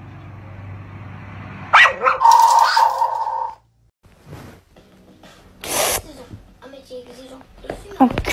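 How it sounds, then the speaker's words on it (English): A dog barks in short bursts while people talk and laugh nearby, with a quieter stretch between the louder outbursts. "Bark at your dog."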